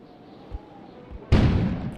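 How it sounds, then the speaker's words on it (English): An explosion outside in the video game Kona: after quiet ambience with a couple of soft low thumps, a sudden loud blast bursts in and rumbles on, slowly fading. "An explosion suddenly occurred outside."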